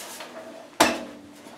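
A drawer on a heavily worn military cabinet is handled, giving one sharp wooden-metal bang at mid-clip that rings briefly and fades, with faint rattling handling noise before and after.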